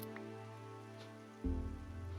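Rain patters steadily in Minecraft as a soft, even hiss under a low droning background, with a sudden thump partway through.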